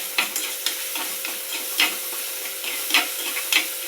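Crushed ginger and garlic sizzle in a frying pan while a utensil stirs them, giving a steady frying hiss broken by periodic scraping strokes, close and clear with no talking.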